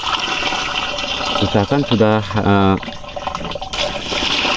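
Water is poured onto urea fertilizer to dissolve it, a close, splashing pour lasting about a second alongside a man's speech, with outdoor background noise.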